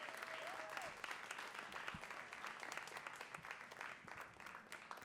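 An audience applauds as a poet walks to the stage at a Boston poetry reading. The clapping is steady and continuous throughout, with a faint whistle-like tone early on.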